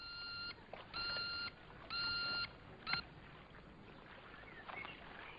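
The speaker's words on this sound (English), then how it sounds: "there's this one here, which is the bleeper, which was used in Russia with Love" A bleeper gadget from the James Bond film From Russia with Love sounds a few separate electronic beep bursts, each about half a second long, with a short sharp click between them. They are clear and sit over a quiet room.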